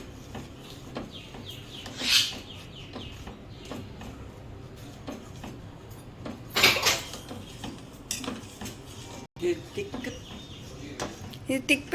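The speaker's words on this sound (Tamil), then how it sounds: "இது திக் பேஸ்ட்டாக ஆகிற வரைக்கும் இந்த மாதிரி மிக்ஸ் பண்ணிக்கிட்டே இருங்க" Rojak paste is stirred in a pan on a stove with intermittent metallic scrapes and clanks, close by, over a soft background hum, with a voice speaking at times.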